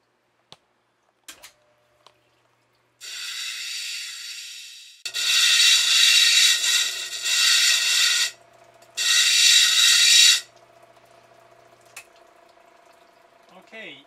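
A saw grinds the corners off a rough agate stone sphere in three long, loud bursts of harsh cutting, separated by pauses, with a steady motor hum between and a few faint clicks before.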